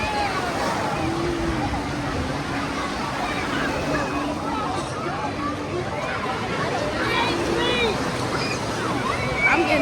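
Waves churning and sloshing steadily in a wave pool at a waterpark, with a continuous broad wash of water and crowd babble throughout.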